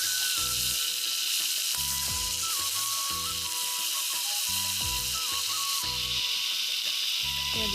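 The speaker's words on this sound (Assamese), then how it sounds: "তাৰ কাৰণে লাই পাতখিনিকে আগত ভাজি ল'ম" Lai xaak mustard green leaves fry in a pan for an Assamese pork dish, giving a steady bright sizzle, with a low, regular pulsing hum repeating beneath it throughout.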